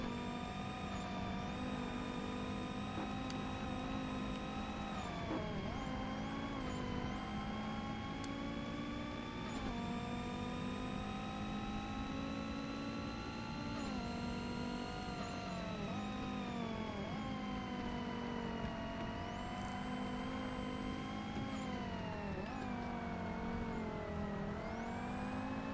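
Several racing car engines in the Forza Motorsport game, including an all-wheel-drive Volvo GT racecar, drone and whine steadily and loudly throughout, their pitch rising and falling through gear changes and acceleration.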